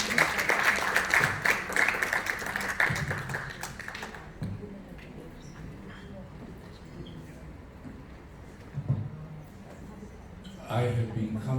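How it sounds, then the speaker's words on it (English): An audience at a formal planning association event applauds a speaker for about four seconds, then the room settles into quiet background noise before a voice begins speaking at the end. "Let us give a round of applause"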